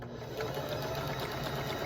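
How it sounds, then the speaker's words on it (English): Domestic sewing machine running steadily as quilt pieces placed right sides together are stitched along a seam, a continuous close mechanical whir with fine rapid needle ticking for the whole stretch. "I'm going to take those over to the sewing machine, and I'm going to sew them together"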